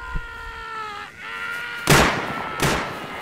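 Gunfire in the video game Rust, two sharp loud booming shots about a second apart over a steady humming background tone.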